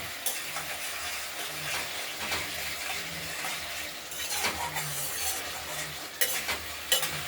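A spoon stirs spice paste being cooked down in oil for a rohu fish curry with potato and tomato, a steady close sizzle broken by repeated scraping strokes and a few sharp clinks of the utensil against the pan.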